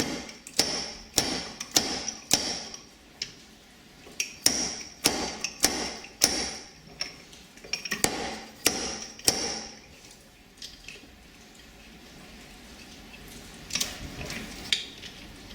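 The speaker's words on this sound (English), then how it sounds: "Drive that seal home." Sharp metallic hammer strikes drive an oil seal driver onto a Yamaha WR125 fork in quick, regular bursts, pausing briefly between sets, then fade to quiet with a few lighter taps near the end.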